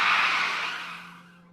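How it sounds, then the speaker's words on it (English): Tires squeal in one loud screech that starts at full strength and slowly fades away over about a second and a half, with no voices. "I heard a squeal of tires."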